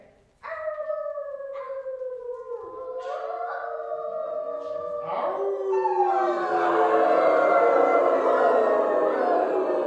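A person imitates a wolf howl: several long, rising and falling wavering howls, loud and close, that swell into a fuller, noisier chorus as more voices seem to join in.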